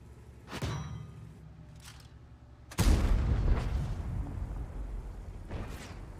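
Tank cannons boom in a tank battle game amid a crossfire, a few heavy blasts spaced seconds apart, one sharp near shot followed by a bigger rumbling explosion and fainter distant reports.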